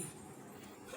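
A puppy whimpers softly, a faint, brief and thin whine from close by with no voices over it.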